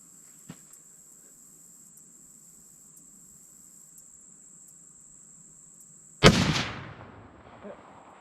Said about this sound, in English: We just got done shooting the guns. We got the 45-70 pretty close and the 270 pretty close.